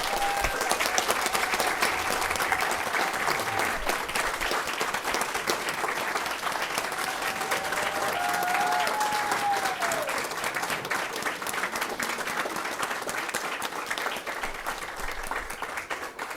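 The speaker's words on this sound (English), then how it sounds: "Give them a round of applause if you would." An audience at a Kinston Police Department ceremony applauds in steady, full clapping that lasts throughout, with faint voices beneath it.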